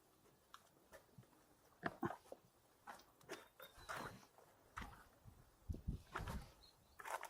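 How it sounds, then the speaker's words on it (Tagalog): A dog trailing hikers through a pine forest in Bucari, Leon, Iloilo, heard as scattered close rustles, sniffs and soft panting-like bursts at low volume, with faint birds in the background. "Nakasunod pa rin yung aso sa atin."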